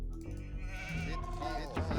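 Sheep bleating in the Age of Empires II HD Edition video game, layered over game music and sound effects with a voice talking over them.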